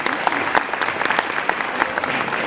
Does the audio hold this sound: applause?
yes